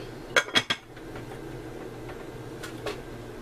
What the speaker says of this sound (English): And put my lid back on.